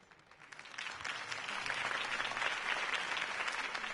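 Applause from a large crowd in the video game Batman: The Telltale Series builds over a few seconds into steady, dense clapping, with faint cheering mixed in.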